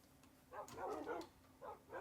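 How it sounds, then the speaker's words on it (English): Dogs (wolves) in the video game Minecraft bark in a few short yips and woofs, in two clusters, moderately loud against a quiet background hum. "Multiple dogs facing the corner for some reason."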